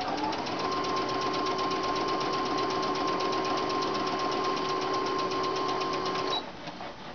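A sewing machine stitches fabric with its thread tension set to maximum, a loud steady rapid mechanical chatter with a sustained motor whine, which cuts off abruptly near the end and leaves a quieter rattle.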